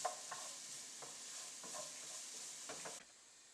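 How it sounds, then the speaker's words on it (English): Diced onions sautéing in bacon fat in a pan, a soft steady sizzle with a few light stirring scrapes, quiet and close, no talk. "we're going to saute our diced onion in there"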